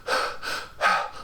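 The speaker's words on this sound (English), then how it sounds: "a lot of heavy breathing." Jason from Friday the 13th Part VIII: Jason Takes Manhattan, played by an actor, heaves three heavy, raspy breaths in quick succession, close and forceful with short pauses between them.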